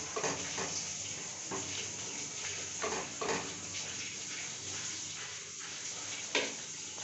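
Spinach with turmeric and sugar is stirred in a pan, soft repeated scraping strokes over a steady low sizzle, close and fairly quiet.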